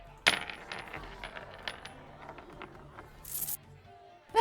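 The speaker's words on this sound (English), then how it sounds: "You produce a small trinket, a metallic oval, and roll it over the table." A small metallic oval trinket rolls across a tabletop near a pile of coins, giving a sharp initial clink followed by faint rattling and tapping, close and quiet, ending with another metallic clink.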